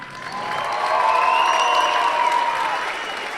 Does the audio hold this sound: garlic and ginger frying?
no